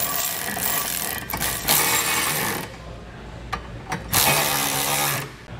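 Ratchet working on trailer hitch bolts during a Curt hitch install on a 2020 Volkswagen Passat, heard as loud bursts of rapid clicking that pause and resume, with no talking.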